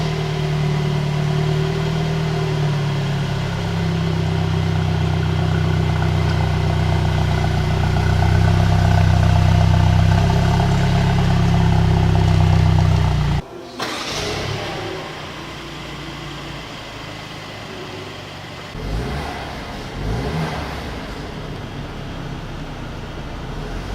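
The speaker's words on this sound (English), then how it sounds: "So let me just start the engine, and we can listen to the sound of the" A 2019 Mercedes-Benz C180 petrol engine idles with a steady low rumble, then cuts abruptly, followed by a quieter restart and idle with slight revving.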